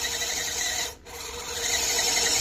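A radio-controlled rock crawler's servo motor strains as the small truck climbs a rock, giving a steady rasping whine that dips briefly in the middle before rising again, close and moderately loud.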